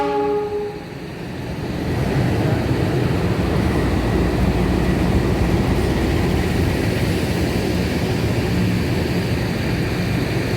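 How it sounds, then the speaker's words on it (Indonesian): The Mutiara Selatan passenger train rolls into Kiaracondong station, opening with a sustained horn blast. A loud, steady rumble and clatter of wheels and carriages follows and continues throughout. "Mutiara Selatan masuk jalur 7 stasiun Kiara Condong."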